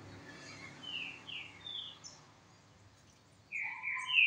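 A green-winged saltator sings a few clear whistled notes, then a louder, brighter phrase near the end, over quiet background hiss.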